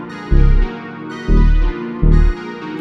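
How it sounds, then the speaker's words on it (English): Omnisphere synth bass with its highs and mids cut by EQ plays three deep, buzzy sustained notes in an even pattern, loud and alone. "let's select something like a synth bass"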